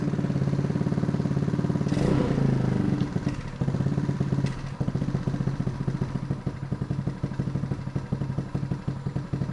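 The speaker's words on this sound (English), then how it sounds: "If you saw when I was giving it gas, it was going straight up to like 15, 16" A Honda Spree scooter with a GY6 engine and clogged carburetor jets running close up: a loud, steady buzzing mid-pitched engine with a brief rev burst early on, then a rough, uneven idle with clattering.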